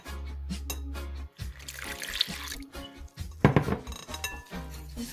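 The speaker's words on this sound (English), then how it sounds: "I'm gonna add my water." Water trickles and splashes into a bowl of flour, garlic powder and salt batter for buffalo cauliflower, with faint clinks of glass and utensils; steady liquid pouring, close and moderately quiet.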